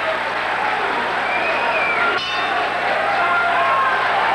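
A crowd at a boxing match keeps up a steady, loud roar of cheering and chatter throughout, with no breaks.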